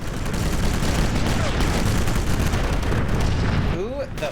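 Dense gunfire and rumbling blasts from the World War II shooter Sniper Elite, a continuous loud battle din with overlapping shots, and brief talking near the end.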